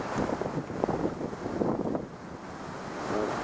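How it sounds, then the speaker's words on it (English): Wind blows outdoors in a garden of flowers in Anchorage, Alaska, a steady rushing roar with gusts buffeting the microphone. "Hopefully the wind will die down."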